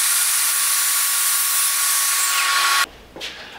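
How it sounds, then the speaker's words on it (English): A power tool whines steadily at close range while cutting a round wooden dowel, loud and continuous for nearly three seconds before stopping abruptly, followed by a faint clatter. "One thing is we are gonna cut a dowel."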